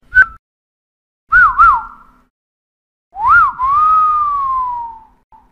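A person whistles in a forest to get the attention of two wolves: a short sharp note, then a wavering two-part call, and finally a long falling whistle, all clear and close with silence between.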